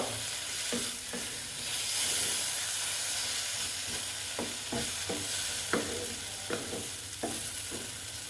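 Potatoes sautéing in a spiced masala in a pan for an egg capsicum curry, a steady close sizzle with repeated scraping stirs of a spatula scattered throughout.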